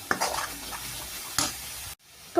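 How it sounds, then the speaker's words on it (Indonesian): Ground spice paste is sautéed in hot oil: a close, continuous sizzle with a few scraping stirs, broken by a sudden brief silence before the sizzling resumes. "tumis bumbu yang kita haluskan tadi dengan minyak sampai layu"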